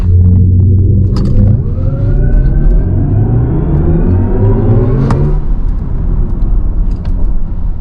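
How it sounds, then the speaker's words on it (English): A BMW iX M70 electric SUV on the road in sports mode gives a loud, steady rumble with a rising electric whine as it accelerates, heard close from inside, with no talking. "So let's go take this down on a drive and see how it is out on the road."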